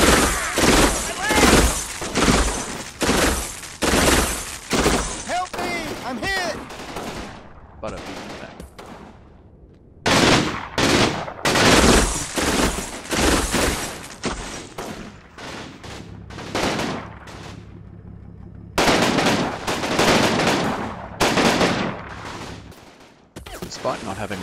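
Machine guns in the tactical war game Combat Mission rake an orchard with suppressing fire: repeated loud bursts of rapid gunshots with short gaps between them, mixed with heavier booms and fading echoes.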